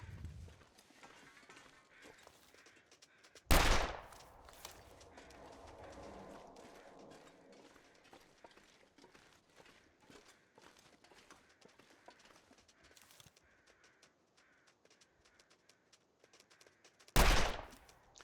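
Two loud, sharp rifle shots in The Long Dark, one early and one near the end, each with a short ringing decay over a quiet, faintly rustling outdoor game ambience.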